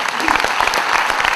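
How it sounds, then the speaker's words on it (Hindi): Audience applauding for soldiers at a bank's platinum jubilee celebration, dense continuous clapping from a crowd, loud and steady throughout. "उन जवानों के लिए एक बार जोरदार दिल से तालियां।"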